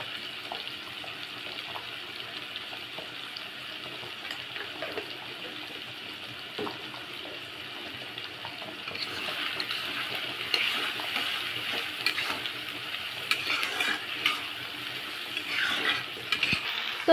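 Onions with salt frying in a pan for a Bengali jackfruit curry, a steady close sizzle with scraping stir noises throughout, growing louder and busier in the second half, with no talking.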